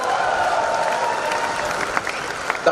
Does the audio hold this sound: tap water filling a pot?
no